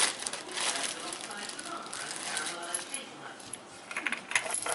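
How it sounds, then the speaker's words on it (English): Metal washers are scooped from a bag, a steady close jingle and rustle of small metal pieces running throughout with brighter clinks toward the end. "And you're going to take as many washers as you need until the space is filled."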